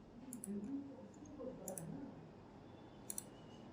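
Computer mouse clicks during jewellery CAD work in Matrix 9.0: three faint, sharp clicks spaced over a few seconds above low room hum.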